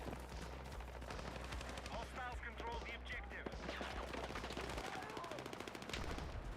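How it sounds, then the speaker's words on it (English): A sniper on a mountain firing in the Battlefield 6 video game, set within a dense, continuous barrage of gunfire and explosions that fills the whole stretch, with a voice talking faintly underneath. "Heard the shot"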